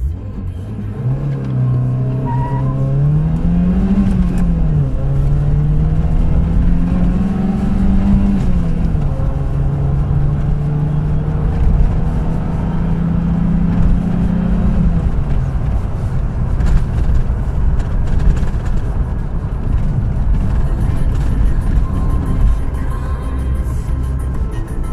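Car accelerating hard during an acceleration test, with engine pitch climbing through the gears in rising sweeps and shifts before settling into steady road noise, close and fairly loud with no talk.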